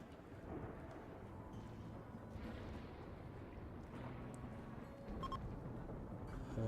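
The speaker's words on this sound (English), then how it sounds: "And now we've got a flash storm." Thunder and rain from a flash storm in the video game Rimworld, a faint continuous rumbling downpour with soft rolling thunder swelling near the end, no speech.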